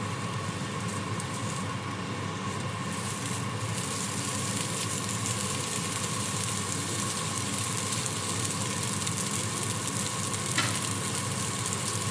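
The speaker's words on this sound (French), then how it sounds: "on les fait cuire en les tournant souvent pendant au moins 6 minutes" Large shrimp sizzle steadily in a hot pan, a continuous dense frying hiss that stays close and even throughout, with faint clinks of turning and no voices.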